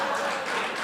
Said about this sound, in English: Got applause. Applause, great.